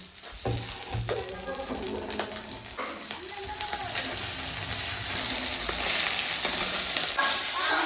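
Radhuni seeds crackle and sizzle in hot oil as a tempering for leafy greens, a steady dense frying hiss that grows slightly louder toward the end, with scattered clinks of utensils.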